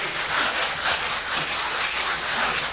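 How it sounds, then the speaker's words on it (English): Sanding a primed drywall patch during a wall touch-up, a loud, steady scratchy rasp of abrasive on the wall in even back-and-forth strokes, close and alone with no talking. "I'm gonna sand this whole spot out"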